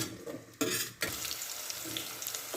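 Onions hit hot oil in a pot for mutton korma, giving a sudden burst of sizzling after a quiet moment, then a steady crackling fry with faint stirring clinks.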